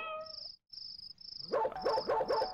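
Barking from a dog in the video game Foreign Creature: three or four quick, close barks in a row follow a steady high electronic tone.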